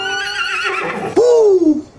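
A horse lets out a loud, close whinny that rises and then falls away. It comes after a stretch of busy, noisy sound.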